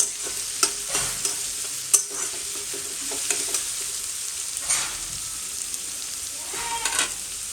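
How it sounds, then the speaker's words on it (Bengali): Onions frying in a pan until golden, a steady close sizzle broken by repeated stirring scrapes and light clatters, with no voices. "এখানে পেঁয়াজগুলো গোল্ডেন কালার আসার জন্য আমি ফ্রাই করে নেবো"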